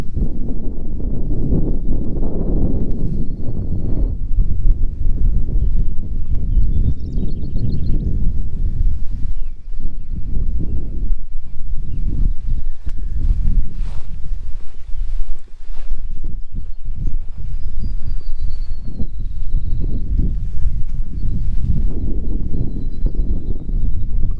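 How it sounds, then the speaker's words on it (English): Wind blowing across a mowed prairie trail in Iowa, a steady breezy roar with gusty microphone buffeting and rustle throughout, loud and close, with a few faint bird chirps in the distance. "Oh, the wind feels good up here."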